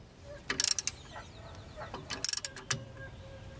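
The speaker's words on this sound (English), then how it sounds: "tighten down this 1/2 inch bolt on the very top where this adjustment is" A ratchet clicks in short rapid bursts while tightening a half-inch bolt on the alternator adjustment of a John Deere 450 series crawler, two quick clusters of metallic ticks heard close up with quiet gaps between.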